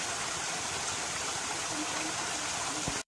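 Water in the Ping Nam stream rushes steadily over rocks during a hike, a constant broadband hiss close by with no break.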